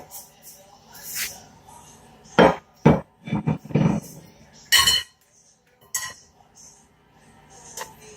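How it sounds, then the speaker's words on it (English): Cooked apples from a crock pot are pressed through a metal strainer to remove the peels, giving scattered close metallic clinks, knocks and scraping strokes separated by quiet gaps. "now I'm just going to press them through the strainer to get the peeling out"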